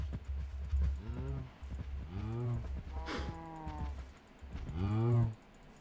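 Cows mooing in the Minecraft video game: several drawn-out, wavering moos come one after another at moderate volume, with faint clicks and game noise beneath them.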